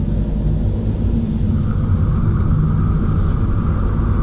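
A vehicle drives in a carnival convoy toward Wells behind a decorated lorry pulling the main trailer, with a generator trailer in tow. A continuous low engine and road rumble holds steady throughout, alone.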